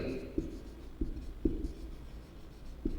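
Numbers are written by hand as a Vedic maths exercise is worked through, with faint pen scratches and a few sharper taps at the paper in a quiet room.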